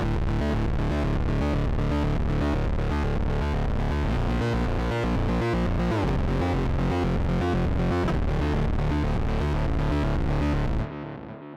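A pure sine wave synth from the Archetype Rabea plugin pulses through an arpeggiator, playing a steady, loud, rapidly stepping pattern that runs continuously before cutting off at the end.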